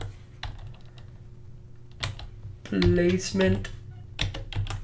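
Quick bursts of computer keyboard typing, close clicks in short irregular runs, interrupted by someone speaking briefly in the middle.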